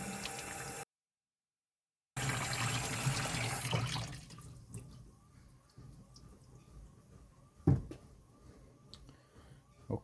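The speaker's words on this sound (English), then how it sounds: "next we just wash it off with cool, low pressure water from the inside out." Cool, low-pressure tap water rinses a Harley-Davidson Stage 1 K&N air filter from the inside out, a loud hissing spray that cuts out briefly, then fades to soft trickles and drips with a few clunks.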